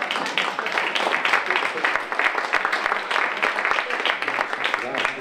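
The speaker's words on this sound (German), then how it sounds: "Können Sie mir mal klatschen." An audience claps at an event, a dense steady patter of many hands that stays moderately loud for several seconds, with no speech over it.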